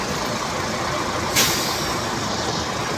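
Cargo trucks roll past a roadside bus stop on a route toward Manila, giving a steady broadband rumble of heavy traffic and a short hiss like an air brake release partway through.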